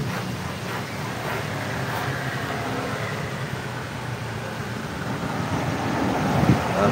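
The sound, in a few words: strong wind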